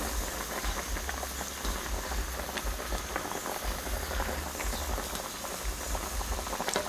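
Catfish simmering in a pot of fermented fish soup, a steady bubbling boil with soft popping and liquid churning throughout, close and fairly loud.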